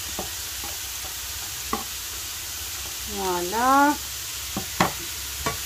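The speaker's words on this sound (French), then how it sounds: "Allez, on va mélanger tout ça joyeusement." Carrots frying in a pan, a steady sizzle under occasional utensil knocks, with a brief spoken word partway through.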